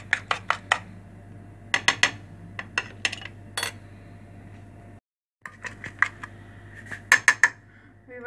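Whisking egg mixture in a bowl with a utensil for sweet bread and egg French toast, heard as a run of quick clinking taps against the bowl in short bursts, with a brief pause midway.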